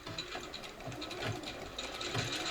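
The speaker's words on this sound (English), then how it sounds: "Then take it over to the machine. Back stitch at the beginning of the gap" A sewing machine back stitches the seam of a triple-layered fabric face mask, giving a short, close run of rapid mechanical ticking and clattering.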